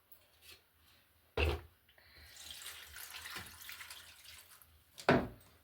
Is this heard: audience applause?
no